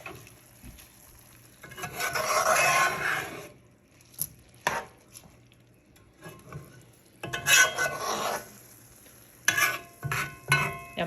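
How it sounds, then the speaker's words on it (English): Spoon stirring Puerto Rican rice with cilantro and olives in a pot over a high flame, scraping and rustling strokes in two longer bursts with scattered short knocks against the pot, close, no talking. "So you just keep stirring it around"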